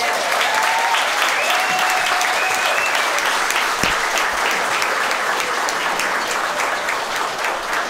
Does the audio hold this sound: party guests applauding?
yes